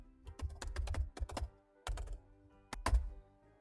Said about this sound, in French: Saisissez directement au clavier un titre pour ce dossier